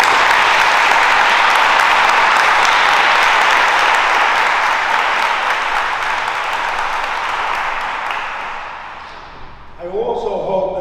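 Sustained applause from a crowd honoring junior police academy graduates at a Saddle Brook Police Department ceremony, loud and steady for about eight seconds before tapering off, with speech resuming at the end.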